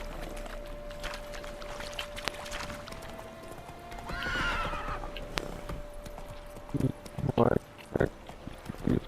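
Roach, the horse in The Witcher 3, whinnies in a short burst midway, and hooves clip-clop in a few loud, close thuds toward the end over a steady game hum, with a voice talking.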